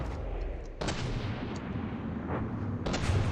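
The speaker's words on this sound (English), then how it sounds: "I did see a little gunfire turret" Turret gunfire in a game match sounds as heavy booming shots over a dense rumbling battle din, with two sharp blasts standing out, near and loud, no talking.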